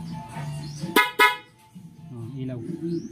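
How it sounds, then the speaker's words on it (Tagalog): Two short, sharp honks of a Yamaha NMAX motorcycle horn in quick succession, loud and close, with quieter talking before and after. "Kaya busina nga."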